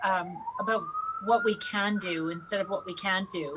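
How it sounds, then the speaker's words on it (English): A police or emergency siren wails outside during an online chat, one long rising and steady tone running under continuous close speech. "sorry for the siren."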